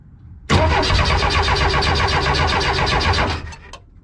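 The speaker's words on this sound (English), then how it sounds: "I want to see if there will be any fuel that comes in here when I try to start the car" Porsche 914 race car engine cranks and catches, a steady rapid starter churn with rough engine rumble lasting about three seconds, close and loud, then cutting off abruptly with a faint clatter.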